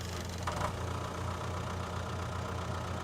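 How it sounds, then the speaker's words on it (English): A loud tractor in a farming video game idles with a steady, rumbling engine drone that continues throughout with no talking. "it's a loud tractor anyway, actually."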